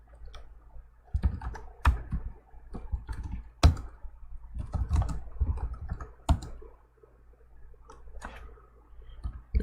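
Fast bursts of typing on a computer keyboard during a Linux command-line session, with clustered clicks and a few sharper key strikes, fairly close and loud, with no talking.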